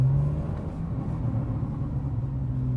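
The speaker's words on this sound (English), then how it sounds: "in Sport Plus mode, you could also hear the backfire or the pops in the exhaust." A 991.1 Porsche 911 GTS in Sport Plus mode drones with a steady, low exhaust rumble as it accelerates, heard from inside the car, fairly constant without distinct pops.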